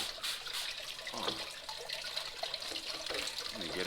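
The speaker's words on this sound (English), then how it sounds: "spray the last remnants out here with this little water bottle right here." Soft hissing water sprays from a small water bottle in short bursts with light splashing while gold sluicing at the Kern River, fairly quiet and close.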